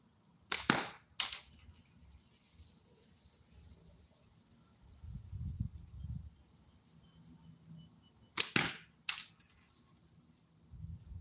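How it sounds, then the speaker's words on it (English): Pickle fork slingshot shots fired during a live shooting session, two sharp snapping releases each followed by a quick second crack, separated by a long quiet gap with faint low rumble between. "I got to concentrate when I'm shooting the pickle fork."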